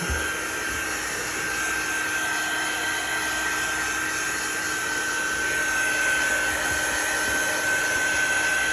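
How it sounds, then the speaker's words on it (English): A loud, steady whirring blow of a hair dryer running continuously up close, with a high whine holding throughout. "I know the drying process, it's probably a little bit loud on your side"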